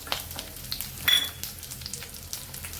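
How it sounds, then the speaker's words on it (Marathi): Garlic, ginger and chillies roast in a pan with a soft, steady sizzle and occasional stirring scrapes and taps, one louder burst near the middle, close and without speech. "लसूण सुद्धा आपल्याला भाजायचे"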